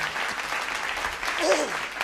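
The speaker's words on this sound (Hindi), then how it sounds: "तालियां बजा सकते हैं" Audience at a Hindi comic poetry show clapping after a poem ends, a fairly quiet, steady patter of applause with a voice briefly audible over it.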